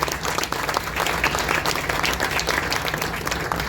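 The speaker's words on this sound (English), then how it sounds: "Let's give them a quick round of applause" Sustained audience applause fills the air at a rail park dedication event, a dense, steady wash of many hands clapping at close range without pause.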